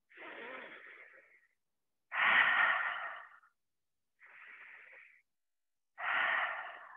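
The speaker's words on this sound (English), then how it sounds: "Just breathing here in through the nose, out through the mouth." Controlled breathing during a movement exercise, in through the nose and out through the mouth: four close breaths alternating soft and stronger airy rushes, each about a second long with short silent pauses between.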